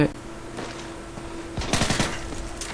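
Modern Warfare 3 multiplayer gunfire: after a quiet stretch a short rapid burst of automatic shots rattles out up close, with game sounds behind it.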